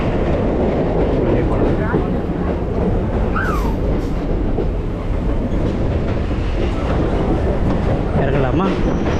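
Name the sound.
train arriving at Chennai Egmore railway station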